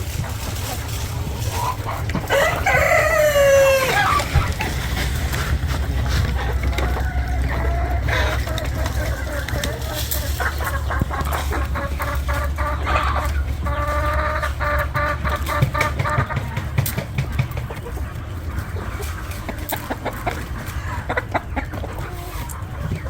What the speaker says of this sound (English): Chickens are doing good. Hey chickens.